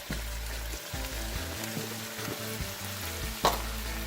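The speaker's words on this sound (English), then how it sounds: "The peppers and onions have been cooking up for about 3 minutes now, so I'm going to go ahead and add in my diced potatoes" Peppers, onions and canned diced potatoes fry in a pan with a close, steady sizzle throughout and a brief sharp clatter near the end, with no voices present.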